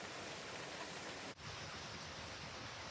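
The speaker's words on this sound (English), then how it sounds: "Right, raining" Steady rain falls outside a greenhouse as a soft, even hiss that stays faint throughout, briefly dipping for a moment before resuming, with no voices.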